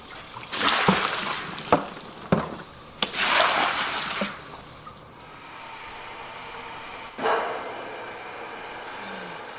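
Soybeans plunge into water to soak, making several short splashes and pours in uneven bursts, then a quieter stretch and one more splash later on.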